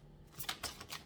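A playing card is drawn from a deck with a few faint, quick papery flicks and slides, close but soft, with no voices.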